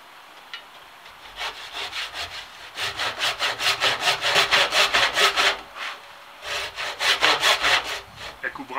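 A hand saw works through a wooden plank in three bursts of rapid rasping strokes separated by short pauses, close and fairly loud, with the saw's back binding in the cut.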